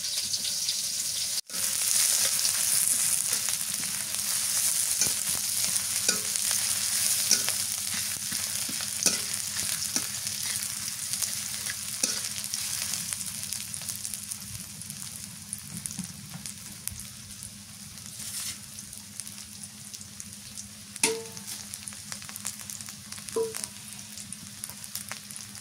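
Sliced onions fry in a pan with a steady, close sizzle, broken by regular scrapes and clinks as they are stirred; no one speaks.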